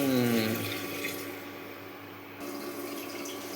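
Water pours steadily into a cooker pot holding cumin and rice for cooking, a close, continuous gush that eases slightly partway through; no talk.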